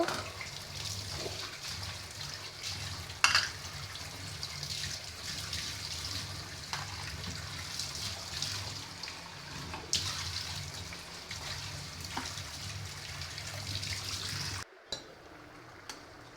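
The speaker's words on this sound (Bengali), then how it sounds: "এখন আমি যে কিছু প্লেট বাটি ওগুলো ধুয়ে নিব" Plates and bowls washed under a running tap, a steady stream of water with occasional clinks and splashes of dishes, ending abruptly as the flow stops near the close; no talk.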